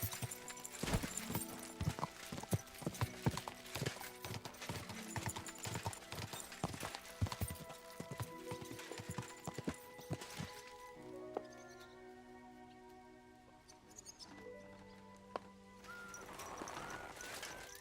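Steady clip-clop of horse hooves trotting at a close, even rhythm in the video game Kingdom Come: Deliverance II, with a softer ambient stretch and faint tones near the end.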